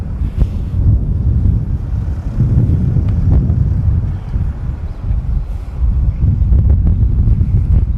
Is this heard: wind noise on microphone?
yes